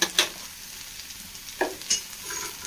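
White chickpeas with crushed Kashmiri chilli being stirred in a sizzling pan, a soft continuous fry hiss under a few scraping spoon strokes and light clinks, close and moderate in level, with no voices.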